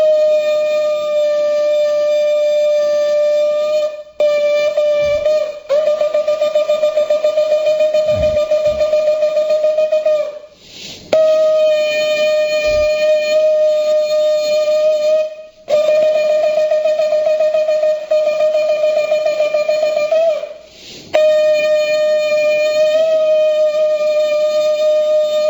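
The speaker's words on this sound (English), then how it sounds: "This is the sound of the shofar" A shofar, a ram's horn, sounded in a temple on Rosh Hashanah after the Torah reading: several long, loud, steady brassy blasts with short breaks between them, heard alone.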